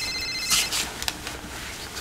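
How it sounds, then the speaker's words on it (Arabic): A mobile phone rings with a bright electronic ringtone, short repeated tones heard close and fairly loud over a faint room background, with no talking. "تليفوني بيرن."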